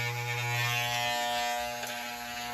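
Steady electric buzzing of hair clippers running close by, a continuous hum with slight shifts in tone as the blades move, no voices.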